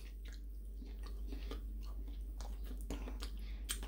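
Someone chews crispy bacon cooked in water, with soft, irregular crunching and squishing bites close to the mouth against a quiet background.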